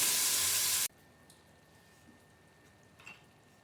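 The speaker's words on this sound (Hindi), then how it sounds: "हल्का से इसे हम भूनेंगे।" Beef frying lightly in a pan for haleem gives a loud, bright sizzle that lasts under a second and then stops abruptly, leaving near silence with a few faint clicks.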